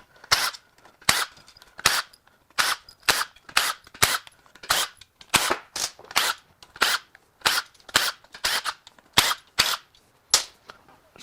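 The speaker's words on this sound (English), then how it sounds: "now we're going to start zipping the bolts that hold the perimeter of the bed plate on" Rapid bursts from an impact gun zipping out the perimeter bed plate bolts on a BMW/Mini Cooper S N18 engine during teardown, about sixteen sharp rattling bursts in a steady rhythm, close and loud with brief gaps between them.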